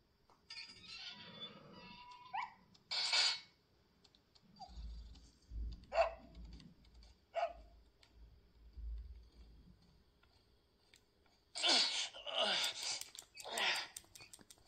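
Dog barks from a video game played on a Nintendo Wii or GameCube emulator, a few short bursts scattered across the clip with gaps between them, along with other game sound effects and a low rumbling hum.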